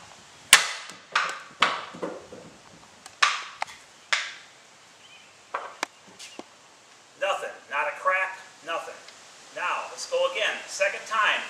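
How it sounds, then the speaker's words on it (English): A 3-pound sledgehammer strikes a hockey stick in several sharp, loud impacts spaced a second or so apart, followed by someone talking. "we're going to come in with a 3-pound sledgehammer. We're going to strike it."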